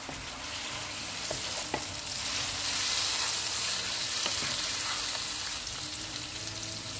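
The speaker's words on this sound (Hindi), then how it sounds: "इसको 1 मिनट तक फ्राई करेंगे।" Onions and spices with ginger-garlic paste fry for a BBQ chicken biryani, giving a steady, dense sizzle that holds loud and even throughout, with a few faint utensil ticks and no voices.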